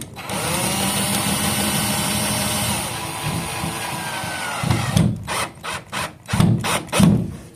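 A power driver tightens fasteners on electrical boxes in a commercial building, first a long steady whir, then several short bursts of the tool in quick succession, close and fairly loud with no talk.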